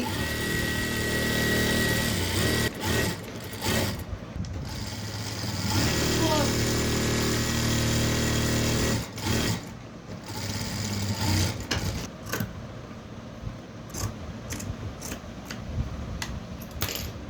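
A sewing machine stitches a blouse after overlocking, running in a steady, close whirr with a few short pauses and restarts, a voice faintly present beneath it.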